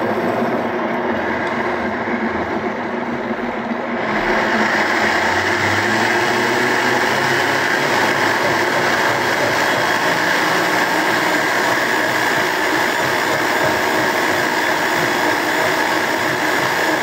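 An electric blender whirs loud and steady as it blends freshly squeezed orange juice with lemon and water, the motor kicking up to full power after a few seconds of quieter running and holding there with no talking.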